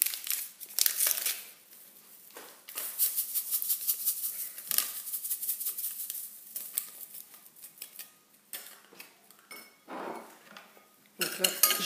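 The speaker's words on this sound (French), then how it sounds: "J'ai blanchi les œufs, donc ça veut dire que je les ai bien mélangés" Egg yolks whisked with sugar in a bowl, the whisk clinking and scraping against the sides in fast, irregular bursts, close and fairly loud, with short pauses between runs.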